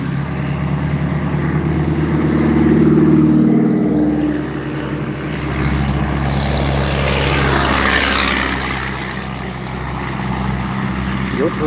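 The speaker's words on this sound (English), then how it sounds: "Your truck is noisy" Noisy truck engine droning and rumbling through city streets near an intersection, a loud steady low roar that swells and eases as it drives, with a person talking over it.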